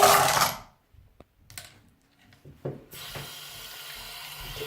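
Tap water pours into a rock tumbler barrel that holds jasper, a loud rushing splash at first, then quiet clinks and taps, then a steady softer flow.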